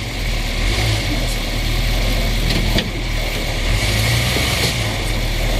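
A 1980 GMC van's 350 V8 idles with the engine exposed, a steady, loud low rumble throughout with slight swells in the note.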